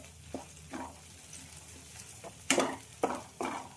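Pounded spices sizzling in hot oil for mutton curry, with a soft, steady fry and a few louder crackles and stirring scrapes, heard alone.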